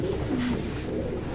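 Racing pigeons coo in low, continuous throaty burbles, close and fairly loud, with one brief rising note partway through.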